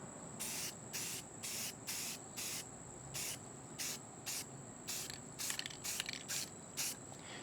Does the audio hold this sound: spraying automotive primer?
yes